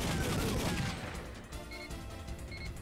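Dense gunfire from Time Crisis on the PlayStation, rapid overlapping shots and bursts forming a loud continuous barrage that thins slightly toward the end, with game sound effects mixed in.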